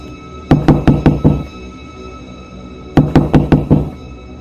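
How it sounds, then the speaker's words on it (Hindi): A cartoon character knocks on a gate in an animated horror episode. Two sharp, close bursts of about five quick raps each are separated by a short pause, with no talking. "लेकिन फिर से गेट खटखटाने की आवाज़ आती है।"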